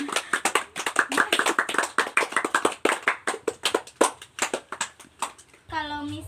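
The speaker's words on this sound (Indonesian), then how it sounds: "Beri tepuk tangan buat Pendi." A classroom of students claps for a classmate's poem recitation, with dense rapid clapping throughout and a voice speaking at the very end.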